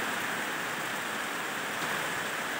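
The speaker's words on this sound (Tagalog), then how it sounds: "Grabe, lakas ng ulan." Heavy rain falls in a dense, constant hiss of drops on surfaces, loud and unbroken with no voices over it.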